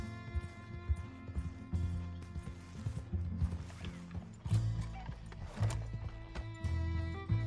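Horse hooves clip-clop through a misty forest in Red Dead Redemption 2, a steady rhythmic gait under game music with an occasional whinny, close and moderately loud.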